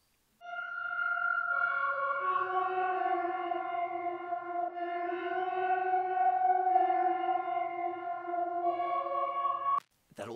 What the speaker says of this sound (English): I have these two Mellotron layers. It's both the same line, but these two sounds really complement each other